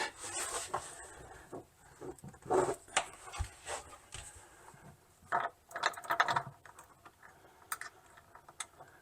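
A ratchet clicks in short, uneven bursts while tightening a nylon lock nut and washer during the installation of a Worksport AL4 flip-up hard tonneau cover on a truck. The clicks are close, moderately quiet, and separated by brief pauses.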